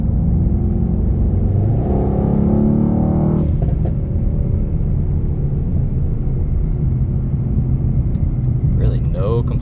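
A Mercedes-Benz E63 S AMG accelerates gently, its engine rising in a smooth revving rumble with an upward sweeping tone, heard from inside the car while a person talks over it.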